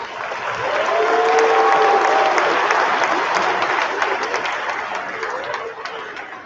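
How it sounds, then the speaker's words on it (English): At an 8th grade continuation ceremony, a large audience applauds supporters with a loud, sustained wash of clapping that swells early and slowly tapers, with faint crowd murmur and brief tonal whistles mixed in. "Let's give them a round of applause for their support."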